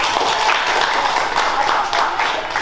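A class of students applauds a classmate in an Indonesian-language lesson, a steady wash of clapping from many hands lasting a few seconds with no break.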